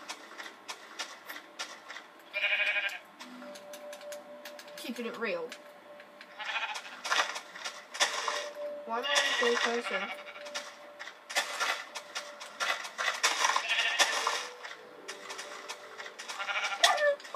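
Sheep bleat repeatedly in the Minecraft video game, several short wavering cries spread across the stretch, mixed with a person talking over them.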